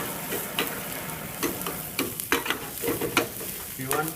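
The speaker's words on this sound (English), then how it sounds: "then we can add the chopped" Chopped onions frying and stirred in a pan at a hotel Ayurveda cooking demo, with a steady sizzle broken by repeated scraping strokes of the spoon, close and fairly loud, with no talk.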